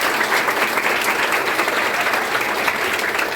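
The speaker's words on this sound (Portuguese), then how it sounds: "Vamos receber com uma salva de palmas o nosso" Audience at a Easter lecture applauding to welcome a speaker on stage, a steady, dense wash of many hands clapping that holds evenly throughout without voices.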